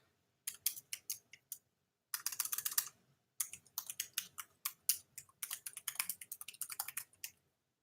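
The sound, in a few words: typing on a computer keyboard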